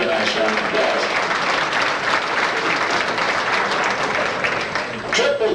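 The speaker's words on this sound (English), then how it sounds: "give a nice round of applause" At an auto racing fan club awards banquet, a crowd claps loudly and steadily for a champion, with voices and cheers mixed into the applause.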